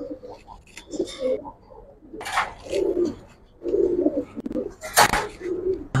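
Giribaz pigeons coo repeatedly in low, throaty bursts, close by in a loft, with a few rustles and flutter-like noises between the calls.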